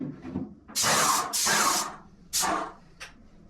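Three short bursts of hissing spray from a Graco X5 airless paint sprayer, separated by brief pauses, followed by a tiny final puff, all close and fairly loud.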